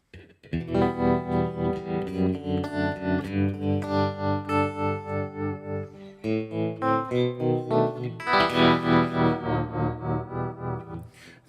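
Electric guitar strumming sustained chords through a pulsing tremolo effect, the volume throbbing in a steady rhythmic wobble, loud and close with no talking.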